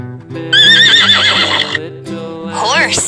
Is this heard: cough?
no